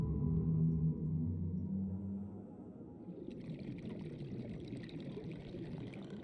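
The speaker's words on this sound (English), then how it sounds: "A lot of water." Water gushes and pours out of an opened time capsule in the modded Subnautica game, a steady loud rushing wash that starts strong and settles into a continuous trickling spill, with no talking.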